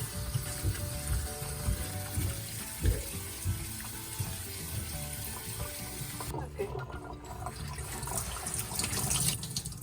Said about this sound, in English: Take it out all the water and then wash it again.